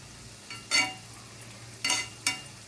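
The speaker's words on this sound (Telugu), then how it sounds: "ఇవన్నీ గోల్డెన్ బ్రౌన్ కలర్ వచ్చే వరకు ఫ్రై చేసుకోవాలి." Cabbage manchurian balls frying in hot oil, with two or three short bursts of sizzling and stirring against a quiet low hum.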